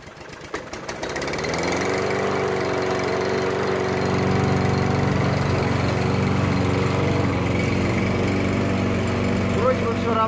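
A Champion lawn mower engine with a repaired damaged blade starts after a brief sputter and settles into a loud, steady running drone close by.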